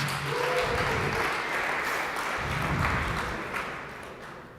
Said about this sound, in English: Give a huge round of applause for Drone Pilots.